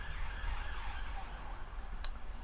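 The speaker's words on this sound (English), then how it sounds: "Police car." A police car siren wails steadily at a moderate distance outside a greenhouse, a sustained tone with a sharp click near the end and no talking.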